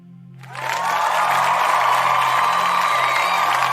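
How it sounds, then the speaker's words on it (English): A crowd cheers and applauds, the sound swelling in after a brief quiet start into a sustained, fairly loud roar over a low steady hum. "They're cheering. They're cheering you on."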